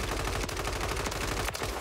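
Sustained, rapid automatic gunfire in the shooter game Warzone 3, a loud and unbroken rattle of shots with a few heavier cracks mixed in.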